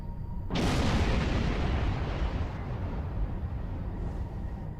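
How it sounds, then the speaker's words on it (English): Starship weapons fire in the space game Star Trek Online, breaking out as one sudden loud blast. A dense roaring rumble follows and stays heavy for several seconds before easing slightly. "Arm weapons. Fire."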